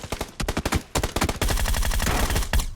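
Groza rifle fire in PUBG: a string of sharp, close single shots in quick rhythm, then a sustained full-auto burst that holds loud and steady to the end.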